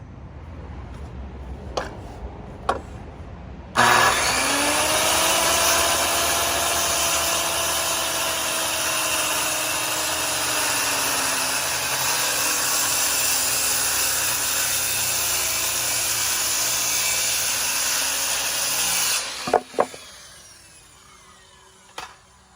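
A power tool cuts a live edge wood slab for a camper countertop, roaring loudly and steadily for about fifteen seconds after a few light knocks, then winding down with clatter.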